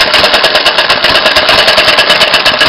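A rebuilt open crank engine runs loud and close in cold weather, chugging in a steady rapid rhythm with a slight pulsing as the governor regulates its speed.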